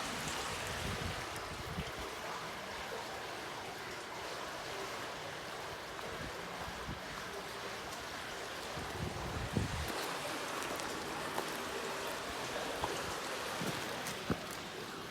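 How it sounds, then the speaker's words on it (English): A stream runs by a lake with ducks nearby. The water makes a quiet, steady rush outdoors, with some wind buffeting the microphone and a few faint bumps. "It's like running water."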